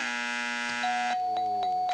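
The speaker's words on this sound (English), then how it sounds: "Bell is sounded. Time is up." A game show bell on the panel show To Tell The Truth rings to signal time is up, two bright chiming tones in quick succession, loud and clear with a ringing decay and no talking.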